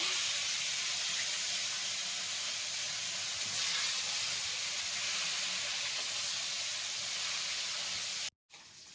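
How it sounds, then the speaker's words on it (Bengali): Fish pieces fry in hot oil, giving a steady, close, even sizzle and hiss that cuts off abruptly near the end, with no talking. "তেলটা গরম হয়ে গেছে, এখন মাছের একটা করে ছেড়ে দেবো।"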